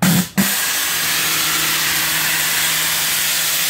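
Steam hissing from the front pop-off safety valve on a small live steam boiler, a steady loud broadband hiss that continues after a brief dip near the start, with a faint low tone beneath it and no talking.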